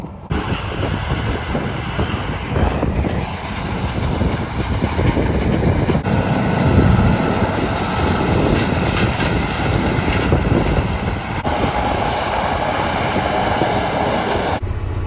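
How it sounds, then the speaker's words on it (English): Four combine harvesters, including a Gleaner F3, run together while shelling corn in a field median, a continuous loud, dense engine and machinery roar that holds steady throughout with no talk. "right in this median area, we have 1, 2, 3, 4 combines running"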